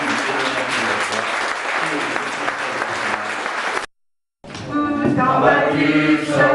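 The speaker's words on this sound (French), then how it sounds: "Avec les applaudissements et les remerciements de nos amis" Audience applause at a French commemorative gathering honouring the commune and mayor, a dense, steady wash of clapping that drops out briefly midway and then resumes louder, with tonal music or voices mixed underneath.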